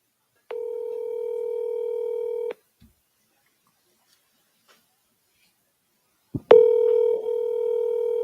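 Two steady electronic phone tones on a voicemail call, each held for about two seconds with a silent gap between, the second starting after a click and continuing to the end.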